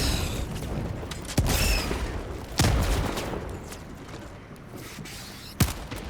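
Explosive blasts in the video game Helldivers 2: three brief, fairly faint thuds spread over a few seconds against a low, steady background of combat noise.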